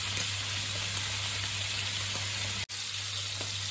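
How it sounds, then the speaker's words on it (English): Beef sears in a hot pan with a steady, loud sizzle and crackle throughout, close by, with no talking. "what I'm going to do is sear this all over"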